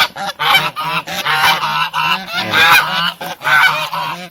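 Farmyard geese honk loudly and close by in repeated bursts, several birds calling over one another in an uneven rhythm with short gaps between calls.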